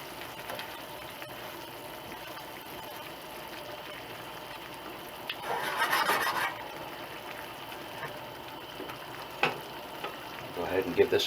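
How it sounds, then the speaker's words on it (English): Fresh basil being stirred into a sauce in a pan, a soft steady scraping and light sizzle that swells briefly midway, with a few sharp utensil clicks near the end. "Go ahead and stir that in."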